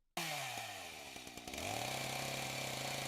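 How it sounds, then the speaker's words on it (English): A chainsaw sound effect bursts in abruptly, its engine revving up and down with shifting pitch before settling into a steady, loud buzzing whine with no voices over it. "somebody came in here and literally just submitted a video of a chainsaw sound effect"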